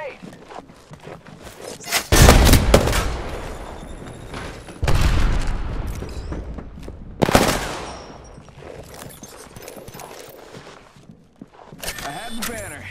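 Grenade blasts and gunfire in the battle royale game Apex Legends, with several loud, heavy booms and bursts of shooting broken by quieter stretches, set against a busy game soundscape.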